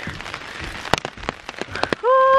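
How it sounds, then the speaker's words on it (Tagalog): Rain falls on umbrellas by a river at Rio Cuervo, a close patter of drops tapping the fabric, ending in a steady tonal hum. "Tingnan mo panahon, umuulan talaga."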